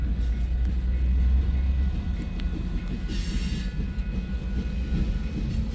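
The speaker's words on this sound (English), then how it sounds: "This train is on the Fremont Sub." A Union Pacific freight train rumbles steadily past at close range in Fremont, Nebraska, a continuous low roar with faint clanking and rattling of cars, no voices.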